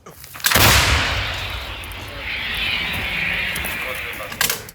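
An artillery gun fires a single loud shot that booms sharply and then rolls away in a long fading rumble, with voices nearby before and after.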